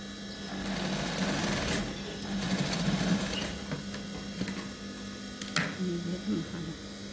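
A sewing machine stitches fabric with a steady mechanical whir and hum that runs for a few seconds, then slows and stops amid small clicks, with a voice speaking faintly alongside.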